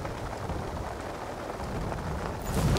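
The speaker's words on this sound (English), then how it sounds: "And within a blink of an eye, the storm hit. The rain fell," Heavy rain during a storm at a seaside golf course, a dense steady hiss of falling water throughout, swelling louder near the end, with no voices.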